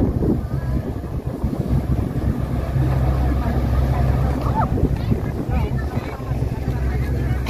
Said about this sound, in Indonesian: Oke, sekarang kita mau naik kapal.